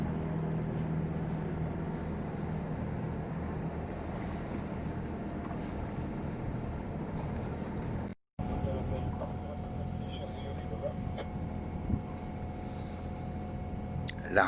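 A sailboat motoring under engine power near Toulon, its engine droning steadily with wind buffeting the microphone and a brief dropout partway through.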